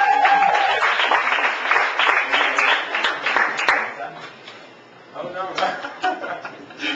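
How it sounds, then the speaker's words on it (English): An audience claps for a singing contestant at a talent contest, with a full round of applause for about four seconds before a host's voice takes over. "Let's have a big round of applause for Dan, everybody."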